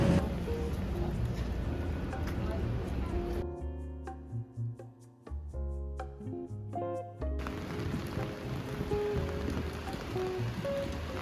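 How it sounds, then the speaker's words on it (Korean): Heavy sudden rain pours down in Melbourne, a loud dense steady hiss of drops striking surfaces that briefly gives way to a quieter, more patterned spatter of distinct drips before the full downpour returns. "비가 엄청 많이 와요, 갑자기."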